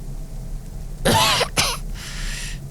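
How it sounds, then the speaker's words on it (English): A woman gives two sharp, raspy coughs close by, followed by a softer breathy exhale, over a low background hum. "She coughed."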